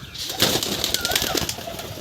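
Pigeons at a home loft give soft, low cooing amid broad rustling noise, with a brief flap of wings near the start.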